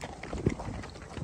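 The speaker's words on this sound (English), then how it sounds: "my horse is trotting" Horse hooves clip-clop in a quick trotting rhythm during a trail ride at Big Sky Ranch in San Juan del Sur, Nicaragua, close to the rider with a brief louder thud amid outdoor noise.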